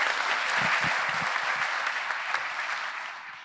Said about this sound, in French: Merci d'applaudir Henri.